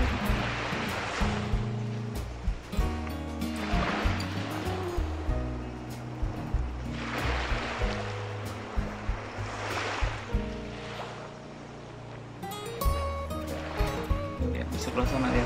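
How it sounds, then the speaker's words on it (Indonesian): Strong ocean waves at Madasari Beach in Pangandaran, West Java, rolling surf that surges and recedes in repeated broad swells, with a person talking over the steady roar throughout. "Kayaknya ombaknya cukup deras,"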